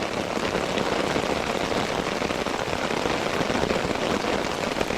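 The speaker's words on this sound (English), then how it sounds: "Hopefully this is raining itself out here." Steady, heavy rain pouring down close by on a hot day, a dense continuous hiss and patter with no pauses and no voices.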